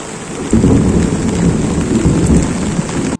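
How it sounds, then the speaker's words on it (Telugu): Heavy rain in a windstorm with thunder bursts in suddenly after a short quieter moment, becoming a loud, dense roar of downpour and gusts that holds steady, then cuts off abruptly at the end. "ఇంటికొచ్చిన తెల్లారే ఫుల్లు వర్షం, గాలివాన 2 రోజులు గట్టిగా కుదిమేసింది"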